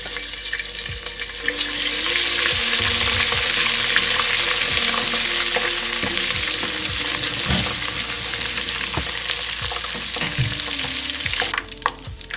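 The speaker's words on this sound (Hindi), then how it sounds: "इसमें एक बड़ा टेबल स्पून लहसुन अदरक का पेस्ट डाल के फ्राई करते हैं।" Garlic-ginger paste sizzles steadily in hot oil, a bright continuous crackle with occasional stirring scrapes and clinks, close up, with no talking.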